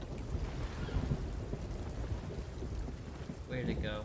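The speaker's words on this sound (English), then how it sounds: "Also, I kind of hear the rain." Steady rain with wind hisses without a break over the open sea in the video game Sea of Thieves, with a faint tonal sound near the end.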